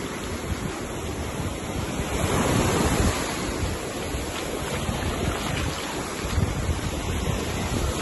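Surf rolls onto a beach along the resort strip between Melas Resort and Horus Paradise, with strong wind buffeting the microphone in a loud, steady roar that swells and eases over several seconds.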